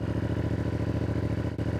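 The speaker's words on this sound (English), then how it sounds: "Look at its idle, how nice." A CFMOTO 450 CL-C motorcycle with stock exhaust idles steadily up close, a loud, even low-pitched thrum with a quick rhythmic pulse and a brief dip near the end.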